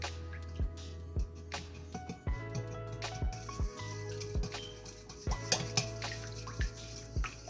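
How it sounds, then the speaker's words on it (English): A spoon stirs a yeast, water and brown sugar mixture in a bowl, giving a series of sharp clinks and taps against the sides at an uneven rhythm over a low steady hum, with no talk. "Just want to stir it up."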